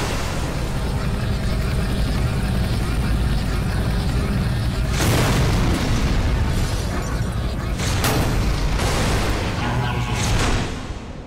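A big tank blasting in a Skibidi Toilet animation, heavy booming explosions and crashing debris bursting out in several loud bursts over continuous mechanical rumble, heard while someone talks over it.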